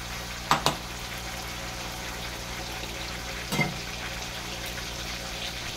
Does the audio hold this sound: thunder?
no